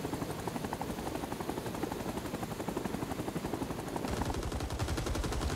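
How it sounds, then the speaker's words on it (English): Helicopters flying in the online shooter Rising Storm 2 Vietnam give a steady, loud rotor chop, overlaid with bursts of machine-gun fire that grow denser and louder toward the end. "It would be so easy to shoot these helis down."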